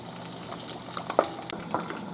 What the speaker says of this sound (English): These are frying in olive oil.